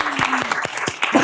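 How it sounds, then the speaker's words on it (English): Applause for a newly appointed professor at an academic event, heard as a quick run of sharp, evenly spaced claps close by with a light background patter, loudest near the end. "So I think that deserves a round of applause."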